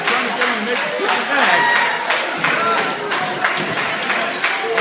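A wrestling crowd cheers and claps for Khan at a UWC Championship Wrestling match, a steady roar of applause and voices with rhythmic clapping bursts, a commentator talking over it.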